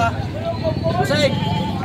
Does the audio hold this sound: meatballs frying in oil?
no